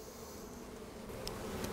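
Honey bees crawling over a brood frame at an opened hive in spring, a soft steady buzzing drone, close but quiet, with no other sounds.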